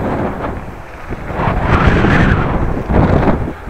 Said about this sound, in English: And now we have a face wind.